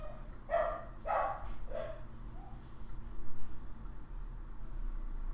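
A dog in Batman - The Telltale Series lets out a quick run of three or four barks close up, then a softer yip, with low game music and ambience continuing afterward.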